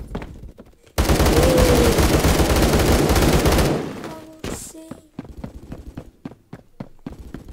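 Automatic gunfire from the Roblox shooter Phantom Forces rips out in a long, loud sustained burst, then gives way to scattered single shots and clicks.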